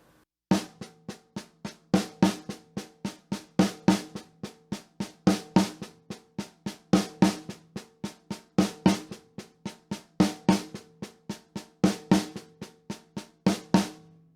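A drum kit loops a six stroke roll rudiment with ghosted middle notes, fast sharp repeated strokes in a steady cycling rhythm, loud and close, with no voices.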